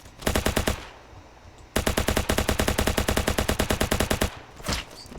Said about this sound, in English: Look at how much incoming fire there is.